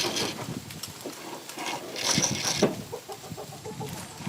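Chickens clucking softly in a coop, a few short calls and scratchy movement close by, fairly quiet with no talking.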